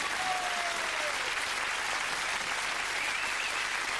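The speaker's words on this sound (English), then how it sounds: "Come on, give him a round of applause." Audience applause at a live stage show, a dense, continuous wash of clapping at an even level for the full stretch with faint crowd noise underneath.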